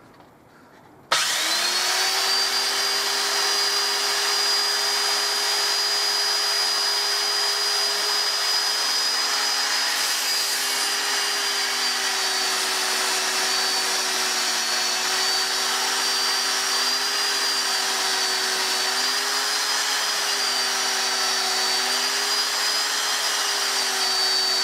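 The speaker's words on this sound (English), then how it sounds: "what I'll do is I'll sand the outside first" A power sander runs steadily against the outside of a wooden bird table, a loud, continuous motor whine with an even, unbroken drone that starts abruptly and holds for the whole stretch without talk.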